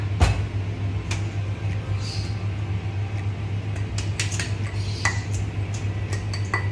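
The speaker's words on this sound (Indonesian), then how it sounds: "Selanjutnya kita akan masukkan gula pasirnya." Granulated sugar goes into a mixing bowl for steamed chocolate cheese brownies, with faint scattered clinks and light scraping of utensils against the bowl over a steady low kitchen hum.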